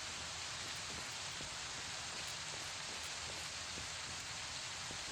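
Rainfall in the video game Fallout: New Vegas, a continuous soft hiss with faint scattered drop ticks, steady and fairly quiet with no one talking.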